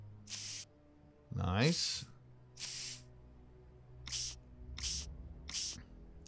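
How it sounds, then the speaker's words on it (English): A water hose sprays a dinosaur fossil clean in six short, loud hissing bursts, with a brief spoken word between them. "We got to hose it down. Usually 3 sprays will do the trick."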